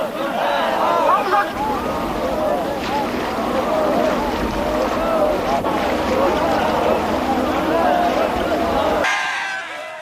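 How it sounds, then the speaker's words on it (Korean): Marine Corps rubber boat moving across seawater during training, with continuous splashing and churning water, wind buffeting, and voices of crew under the noise, ending abruptly. "오전 내내 보트의 수상이동 훈련이 계속되고 있다"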